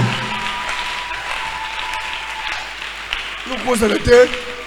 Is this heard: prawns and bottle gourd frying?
no